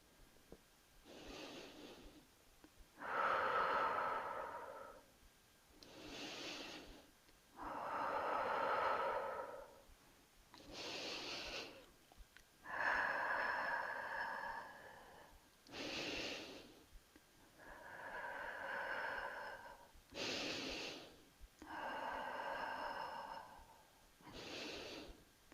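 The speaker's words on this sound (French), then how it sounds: "On inspire. Et on expire." Slow yoga breathing, with long audible inhales and exhales alternating in a steady rhythm, each breath lasting a few seconds, close and soft with quiet gaps between.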